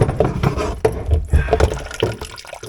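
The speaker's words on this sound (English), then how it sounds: "Wow, that's a lot of water." Water gushing out under a bathroom sink while a shut-off valve is being replaced, an uneven splashing and gurgling that is close and fairly loud over nearly three seconds.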